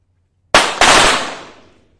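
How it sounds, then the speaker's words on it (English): Two sharp pistol shots at a 25 m shooting World Cup final crack in quick succession, loud and close, each ringing out into a fading echo. "You can see the recoil from the fire gun. At each shot, they have to get back to position."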